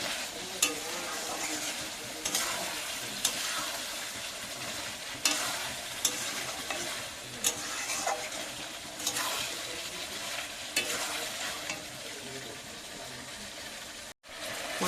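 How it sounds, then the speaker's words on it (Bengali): Meat being kosha-fried in a pan with its juices released crackles in a constant close sizzle, punctuated by repeated spatula scrapes every second or so, ending with a short break. "মাংসটা কষানো চলছে, মাংস থেকে একটু জল বেরিয়েছে।"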